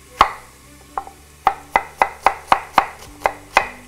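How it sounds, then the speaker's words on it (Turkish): Onion being chopped with a knife on a cutting board, about ten crisp, evenly spaced chops sounding close and clear over a quiet kitchen background. "Bundan sonra soğanını doğrayalım etin."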